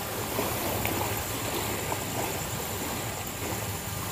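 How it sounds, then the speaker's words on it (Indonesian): Waves washing on a lake in the Mount Salak area, a steady rushing of water that holds even and fairly loud throughout, with no voices. "yang namanya danau itu ada ombak seperti laut"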